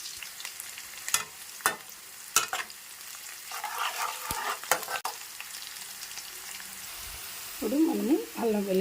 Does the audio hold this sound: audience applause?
no